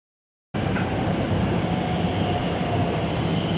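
A subway train on the Chengdu metro heading to the airport gives a loud, steady rolling rumble that starts abruptly and continues without break, with no talking.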